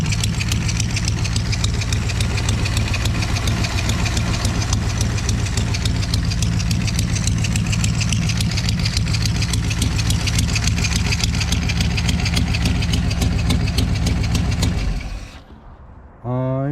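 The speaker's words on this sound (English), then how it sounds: "Dead cylinder maybe?" A close Chevy C10 engine idles roughly with a lumpy, irregular rhythm from a dead cylinder miss for a long stretch, then cuts out abruptly near the end.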